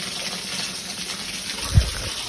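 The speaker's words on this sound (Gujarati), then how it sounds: "પાણી તો જવા માંડ્યું" Floodwater drains away from a house during flooding in Junagadh, a steady rushing gush of water throughout with one brief low thump near the end.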